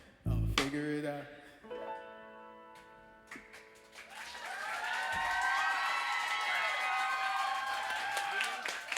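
An audience at a live music show claps and cheers, with the applause swelling into a sustained, fairly loud ovation after a few seconds, while instrumental tones ring out at the start.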